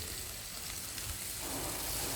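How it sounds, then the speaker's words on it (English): Salted steak frying in a hot pan gives a close, steady hissing sizzle with no break. "So, sizzle is exactly what you're after there"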